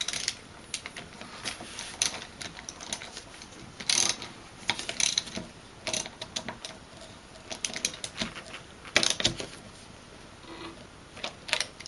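A wrench clicks and ratchets in irregular bursts while tightening a 10 millimeter threaded fitting, close and sharp with short pauses between strokes.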